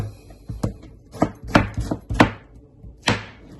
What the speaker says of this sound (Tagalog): So, first, the tomato. Hiwain lang natin.